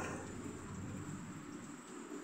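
Steady rain falls in a rural village area, a soft continuous hiss with a low rumble beneath, even and unbroken, with no voices.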